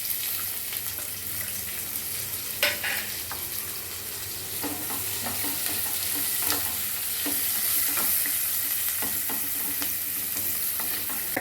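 Okra sizzles steadily in oil in a pan while a spoon stirs and scrapes now and then, with a soft continuous hiss and occasional clinks.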